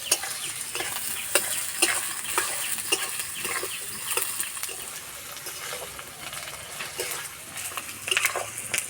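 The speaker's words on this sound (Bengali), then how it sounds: "পেঁয়াজ হালকা লাল করে ভেজে নেব" Onions fry in hot oil in a pan for chicken kosha, giving a steady bright sizzle broken by regular stirring scrapes and clicks from a spatula throughout.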